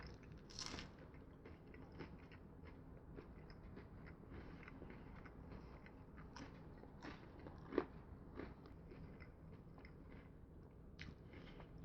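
Crunchy grilled tofu pizza on a wheat-free crust is chewed close up, giving faint, steady crunching and soft bites with no talking.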